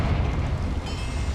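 A Confringo fire spell blasts a boiler in Hogwarts Legacy, a deep, sustained rumbling roar with no clear single bang, steady and loud for its whole length.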